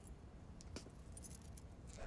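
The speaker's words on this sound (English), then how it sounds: "In fact, here are my keys." A bunch of keys jangles briefly as it is handed over, a short metallic rattle over steady indoor background noise.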